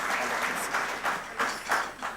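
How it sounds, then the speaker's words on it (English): An audience at a formal awards gala dinner claps, a short burst of applause rising and falling in a few uneven surges. "Let us clap for him."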